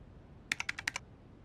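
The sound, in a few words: typing the minimum price on a computer keyboard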